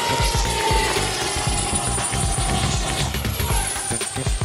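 A remote-controlled model airplane flying fast gives off a steady, high-pitched motor whine over continuous rushing, buzzing noise, loud and sustained throughout.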